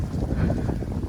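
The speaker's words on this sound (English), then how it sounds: "it is so windy out here" Strong wind buffets an outdoor microphone in a continuous low rumble with gusty swells, steady and close throughout the short moment.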